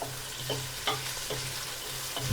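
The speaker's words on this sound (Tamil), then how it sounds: "தக்காளி பழத்தை போட்டு வதக்குங்க" Tomatoes are stirred and sautéed in a pan for a Sri Lankan fish curry. A steady soft sizzle carries a low rhythmic scraping of the spoon, with a few louder strokes and a thump at the end, with no talking.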